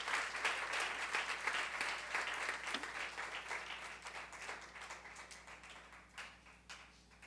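Congregation applauding during a Spanish-language church service, a dense, sustained wash of clapping that stays fairly loud throughout, tapering slightly toward the end.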